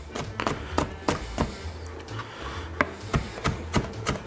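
Knife chopping a hot cherry pepper, seeds included, on a cutting board while preparing Italian mussels; a steady run of sharp, close taps at an even rhythm with no talk.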